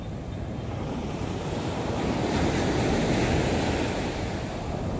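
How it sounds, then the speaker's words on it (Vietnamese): Large sea waves roll onto the beach at Nha Trang in the morning, a broad steady roar of surf that swells in the middle, mixed with wind buffeting the microphone and no voices. "sóng hôm nay sóng biển rất là lớn luôn"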